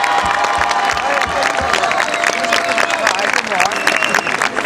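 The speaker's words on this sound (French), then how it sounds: "ça demande vraiment un grand applaudissement," A crowd at a march against Agrexco applauds and cheers, a dense, loud, continuous wash of clapping and voices throughout.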